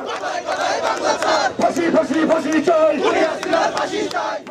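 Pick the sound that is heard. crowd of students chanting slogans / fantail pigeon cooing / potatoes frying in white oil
crowd of students chanting slogans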